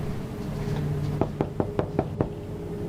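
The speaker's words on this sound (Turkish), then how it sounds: "Kapı çalıyor şu anda." Six sharp knocks on a door in a quick, slightly uneven series, fairly close, over a low steady background hum.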